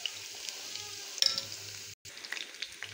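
Cauliflower florets frying in hot oil, a steady soft sizzle with a brief louder stir or clatter and a short gap of silence partway through.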